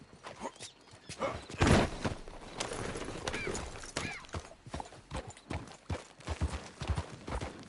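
In the video game Red Dead Redemption 2, horse hooves clip-clop in quick rhythmic beats, with a snort partway through. The sound is fairly close and moderately quiet, with no clear talk.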